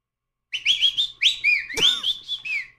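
A person gives a single whistled answer to a yes-or-no question: a run of bright, chirpy warbling notes lasting about two seconds, loud and close, heard alone.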